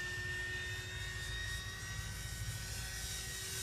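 Homemade foam glider built with tape and hot glue and a ducted fan flying nearby, a steady high-pitched electric fan whine with a constant drone and no breaks, alone with no talk.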